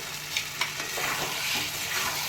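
A spoon stirs potato curry with added cashew paste in a hot pan, giving a few scraping strokes over a low, continuous sizzle at close range.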